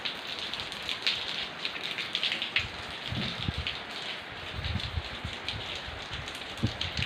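Steady rain hisses down, broadband and continuous, with occasional heavier drops and low splashes from water running off a house's gutters nearby, in Surin, Thailand.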